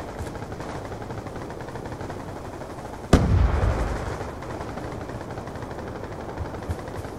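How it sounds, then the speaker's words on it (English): A frag grenade bursts loudly mid-clip amid rapid gunfire in Call of Duty Black Ops 2 multiplayer, the blast decaying into a rumble over continuous crackling shots. "Throwing frag!"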